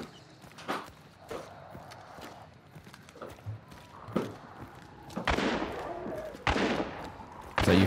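Gunshots ring out in Hunt: Showdown, several sharp bursts landing near 5.3 and 6.5 seconds with a final loud crack at the end, mixed with footsteps and horse clip-clop ambience.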